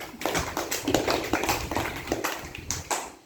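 Children clapping in a classroom, a short round of quick, uneven hand claps from a small group, close and lively, ending with a few scattered claps.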